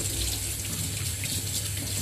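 A sink tap runs steadily, a continuous close rush of water splashing into the basin with no pauses or voices.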